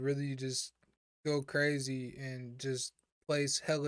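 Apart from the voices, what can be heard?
No everyday noise stands out behind the speech.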